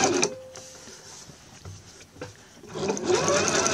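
A sewing machine stitches a twin-needle hem on medium-weight knit fabric, running in short bursts that slow while crossing a seam allowance, then speed back up to a steady loud whir.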